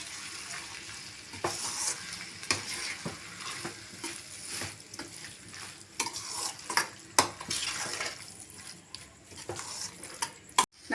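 A spoon scrapes and clacks against a pan while a thick potato gravy masala sizzles, with irregular stirring knocks over a steady frying hiss.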